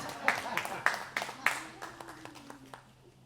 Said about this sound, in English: Yeah, no, you can applaud for yourself.